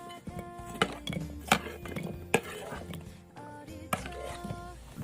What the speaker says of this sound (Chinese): 先把萝卜放到砂锅里面